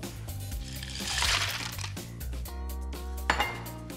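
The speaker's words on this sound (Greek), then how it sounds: "Και λίγο πάγο." Ice cubes dropped into a bowl of cut vegetables in cold water, giving a few bright clinks and small splashes close by in a kitchen, with a louder clatter near the end.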